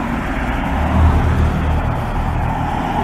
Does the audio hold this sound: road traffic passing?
yes